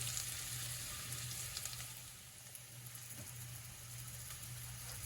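Garlic and other ingredients frying in a pan for corned beef, a steady soft sizzle that runs continuously and stays fairly quiet with no talking.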